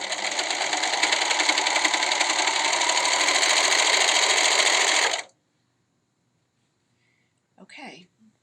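A sewing machine stitches a seam on a fabric face mask in one continuous, loud, close run of fast rhythmic whirring for about five seconds, then stops abruptly, followed by near silence and a brief soft voice.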